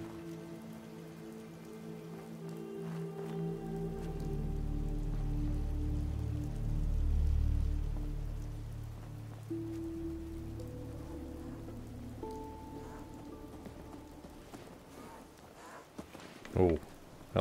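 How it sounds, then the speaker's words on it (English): Rain patters steadily across a dusky outdoor scene in Fallout 4, a continuous wash of drops with low rumbling underneath, while a person talks over it through much of the stretch. "Oh no, we've got rain."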